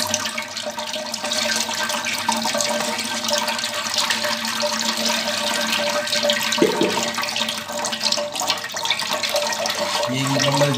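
A jug of water pours through ground almonds to make almond milk: a continuous, fairly loud rushing gush that runs for several seconds, with no one talking.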